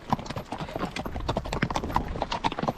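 Horse hooves clip-clop steadily and close on a rainy trail ride, a quick regular rhythm of sharp strikes running throughout with no voices.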